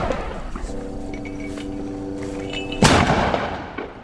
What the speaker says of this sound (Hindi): पूर्वी अल जैतून में इजरायली सैनिकों के ऊपर एक हैवी मोटर गोले दागे हैं